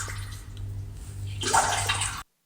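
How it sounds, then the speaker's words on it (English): Running water, such as a bathtub or tap filling, hisses steadily, then grows louder and brighter partway through as the flow strengthens, with a low hum underneath. "That is water, so that's great."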